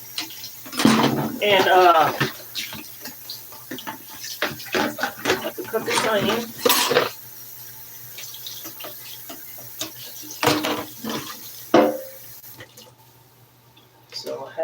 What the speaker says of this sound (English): I'm about to rinse my hands because again I have bleach water